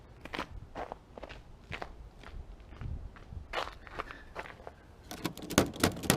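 Footsteps crunch underfoot outdoors in cold weather near where trees are being cut, several uneven steps close by that grow louder and denser toward the end.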